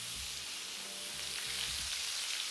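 Steak frying with butter in a pan gives a steady, close hiss of sizzling fat, with a few faint low knocks underneath.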